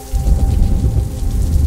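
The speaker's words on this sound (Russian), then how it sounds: "Гроза." A thunderstorm sounds as steady heavy rain hisses over a deep rolling rumble of thunder, dense and loud throughout without a break.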